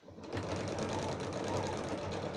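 Sewing machine back-stitching through bulky fabric on a spare toilet roll holder, a steady close motor whir with rapid needle rhythm running continuously after a brief start.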